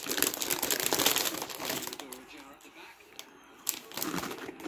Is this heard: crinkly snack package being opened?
yes